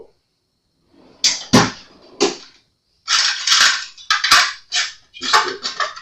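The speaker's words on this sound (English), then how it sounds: "Just a run-of-the-mill spanner wrench." A run-of-the-mill spanner wrench handled on an Epiphone Les Paul Zakk Wylde custom guitar: close, sharp metallic clinks and scrapes in short bursts, quiet pauses between, no talking.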